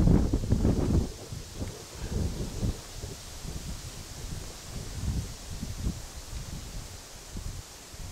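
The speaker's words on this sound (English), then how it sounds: "It's kind of windy now, so I don't know really how to aim." Outdoor wind buffeting a microphone at an air gun shooting spot, with heavy gusts in the first second that settle into steady, uneven rumbling and rustle for the rest, no voices.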